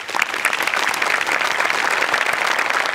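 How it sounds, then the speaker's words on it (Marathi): A studio audience at a Marathi comedy show breaks into sustained applause, a dense, even wash of many hands clapping close by for several seconds. "तुमच्या दोघांसाठी टाळ्या व्हायला पाहिजे."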